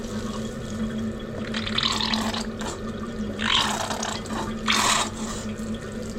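Warm water pours over motorbike parts in short splashing bursts, three distinct pours over a steady background hum, close and moderately loud with no talk.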